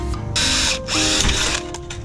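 A power drill whirs close up in two short bursts, its motor whining and straining as it bites into metal while drilling a pilot hole for roof fascia.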